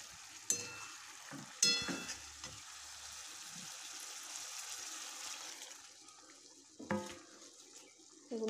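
Potatoes and spices sizzle and fry in a pan with a steady hiss, broken by a few sharp clanks and stirring scrapes of a utensil, with no voices.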